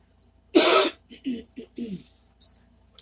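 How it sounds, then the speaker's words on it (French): A loud, harsh cough bursts out, followed by several shorter coughs and throat-clearing sounds in a loose series, close to the listener, triggered by air conditioning. "ça me fait tousser"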